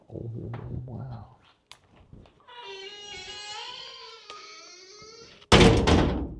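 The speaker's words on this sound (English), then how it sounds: "Shut that door." A door slams shut loudly in an underground dugout at Coober Pedy, a sudden close thud with rattle after a stretch of hollow noise and faint voices.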